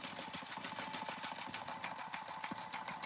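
An embroidery machine runs a satin stitch on a patch, a steady fast mechanical whir with a rapid even needle rhythm, close and continuous, no talking.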